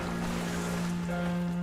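Underwater swimming in the video game Stellar Blade, a steady rushing water wash with a low droning hum running continuously, loud and close.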